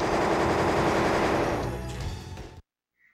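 Machine gun fire from a mech in the Armored Core Master of Arena video game rattles in one dense, continuous, loud burst that tapers slightly and then cuts off abruptly into silence.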